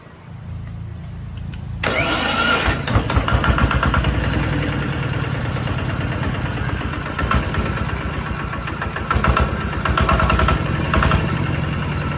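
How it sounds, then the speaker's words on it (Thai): A Kawama 155 Plus diesel engine with electric starter cranks and catches after about two seconds, then runs at a steady, loud, rumbling idle right up close, with no talking. "เครื่องยนต์ดีเซลคาวาม่านะครับ เดี๋ยวตอนนี้ช่างได้ทำการเติมน้ำมันเครื่องเติม น้ำเรียบร้อยนะครับเดี๋ยวลองเครื่องกันเลยนะครับ"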